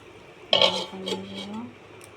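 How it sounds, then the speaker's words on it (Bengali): A metal lid clatters down onto a cooking pot of vegetarian vegetables with potato and taro, one bright clank followed by a short fading ring and faint rattling. "এবারে ঢাকা দিয়ে দেবো একটু"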